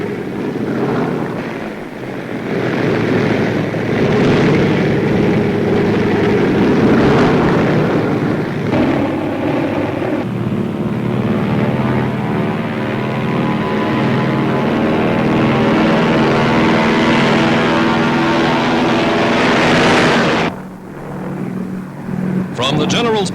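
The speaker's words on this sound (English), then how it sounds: "Now, one by one, the huge motors roar." Huge motors of US bombers roar one after another as the squadron sets out on a 1942 raid over France, a loud sustained throbbing drone with pulsing harmonics that swells, then briefly cuts before resuming.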